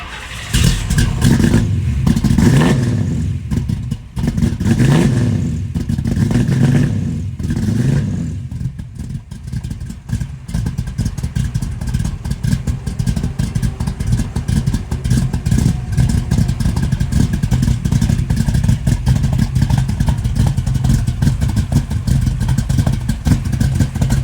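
A 1967 Chevrolet Camaro with a big-block V8 cranks, fires and settles into a loud, steady rumbling run, close to the microphone, with revving surges early on before holding a continuous throaty idle.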